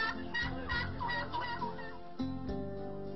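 Turkeys calling loudly in repeated bursts, a rough warbling gobble from the birds close by, with several overlapping calls filling the whole stretch and no talk.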